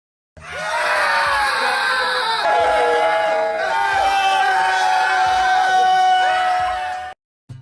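A toadfish call: a loud, sustained tonal groaning scream with harmonic wavering plays for several seconds, then cuts off abruptly.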